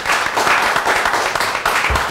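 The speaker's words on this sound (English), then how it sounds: "Now, let's have some more applause for all of them." Audience applause at a community recognition event, a dense wash of many hands clapping steadily and loudly for about two seconds, with a brief low thump near the end.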